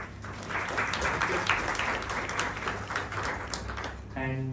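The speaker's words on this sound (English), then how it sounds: "shall we have another round of applause" Audience applause for a speaker at a communication and information technology conference session, a sustained dense clapping from a sizable crowd that fades near the end.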